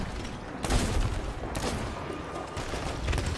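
Gunfire in the Sea of Thieves video game, heavy shots arriving in a few separated bursts over a continuous noisy background, fairly loud and close.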